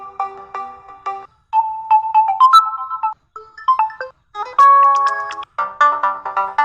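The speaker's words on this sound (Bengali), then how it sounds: "এখানে কিন্তু মানে অনেকগুলো নোটিফিকেশন বাজতেইছে" Several Facebook Messenger notification ringtones play one after another on a phone, a series of short melodic chimes and jingles separated by brief pauses, loud and close with no talking.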